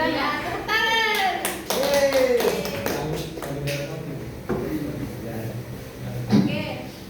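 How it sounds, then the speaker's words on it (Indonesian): Hands clapping together in a classroom, a burst of applause over children's voices and chatter, steady and fairly loud across the clip. "Ya, tepuk tangan."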